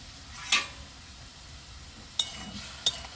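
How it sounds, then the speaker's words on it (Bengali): A spoon scrapes and clinks three times against a bowl while chicken filling for kachori is mixed with salt and turmeric, sharp close clicks over a soft steady background hiss. "ভালো করে নেড়ে চেড়ে মেখে দেবো।"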